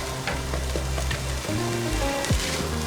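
Lobster fried rice with soy sauce sizzles and crackles loudly in a very hot wok, a steady dense frying hiss broken by stirring scrapes and clatter, with no voices.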